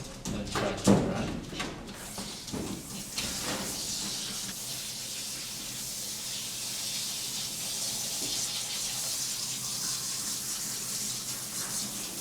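Water runs steadily from a tap while a Pomeranian is bathed during grooming, making a continuous close hiss after a few brief splashy bursts at the start.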